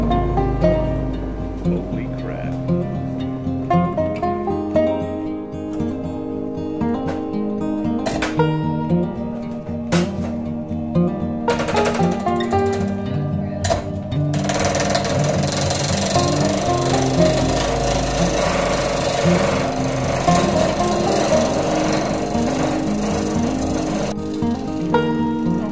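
A homemade 10-inch MDF sharpening wheel spins on its clamped-down setup, giving a steady droning whir with a rhythmic wobble and occasional knocks and scraping bursts throughout.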